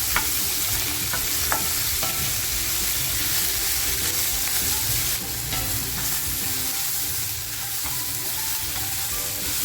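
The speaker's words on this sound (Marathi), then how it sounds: "आता हे आपल्याला छान असं परतवून घ्यायचं आहे बघा कांद्यातलं पाणीसुद्धा सुटलेलं आहे" Onions and green chillies sauté in a pan for a prawn masala, a dense continuous sizzle with frequent spoon scrapes and clinks against the pan, loud and close throughout.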